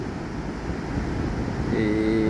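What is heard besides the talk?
sea waves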